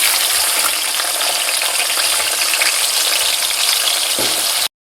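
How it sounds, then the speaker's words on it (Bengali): Cut potatoes frying in hot oil tempered with cumin, bay leaf and whole garam masala, a loud, steady bubbling sizzle heard up close, ending abruptly. "এবার দিয়ে দেবো কেটে রাখা আলুগুলোকে খুব ভালোভাবে ভেজে নেব।"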